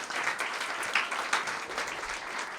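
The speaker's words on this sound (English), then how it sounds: "We can give a round of applause to you as well." A steady patter of audience clapping at a film festival awards night, moderately quiet and even, with a few sharper individual claps standing out.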